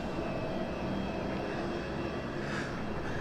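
Heavily loaded easyJet airliner taking off from Southend Airport, a dense sustained jet engine roar that stays loud and steady from start to finish.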